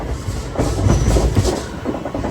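A passenger train rolls between Rayagada and Koraput, heard from on board as a loud rumbling rattle with rhythmic clattering wheels.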